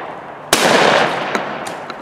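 A single sharp shotgun blast on a sporting clays course, close and loud with a brief decaying tail, followed by a few faint clicks.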